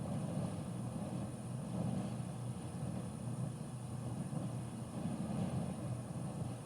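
Twin propeller aircraft engines drone steadily in Microsoft Flight Simulator during a slow descent at about 2,400 RPM, a continuous low rumbling hum with a faint high whine above it.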